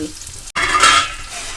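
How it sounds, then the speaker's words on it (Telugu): Onions drop into hot oil, and after a brief gap the sizzle flares up loud and close, hissing brightly before easing slightly. No one speaks. "ఆయిల్ వేడవుతుందండి. ఇప్పుడు ఆనియన్స్ వేసుకుందాం."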